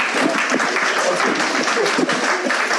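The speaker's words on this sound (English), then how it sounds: "can we clap?" Audience applause fills a talk on art, activism and ecological extraction, a dense, steady clapping from a seated crowd lasting a few seconds at full loudness.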